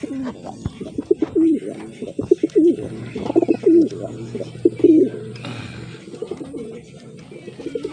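Pigeons coo repeatedly at close range during pairing and breeding, soft throaty rolling calls recurring every second or so over faint background noise.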